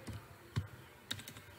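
A few scattered, soft keystrokes on a computer keyboard, with quiet gaps between presses and no talking.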